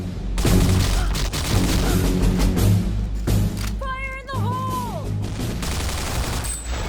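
Rapid bursts of gunfire from the Counter-Strike 1.5 fragmovie Adrenaline 2 crackle over a loud, dense music track, with short volleys repeating in quick succession.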